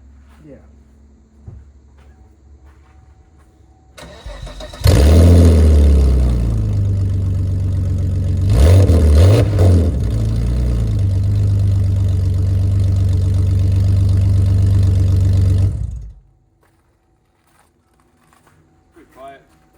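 A Volvo 960 with a modified exhaust starts up and runs with a loud, steady low rumble, a brief rev in the middle, then cuts off abruptly, leaving near silence; quiet ambient noise before it starts.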